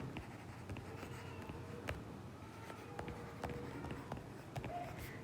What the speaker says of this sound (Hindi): अब इम्पीडेंस का फॉर्मूला लिखते हैं